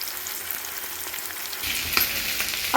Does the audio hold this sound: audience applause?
no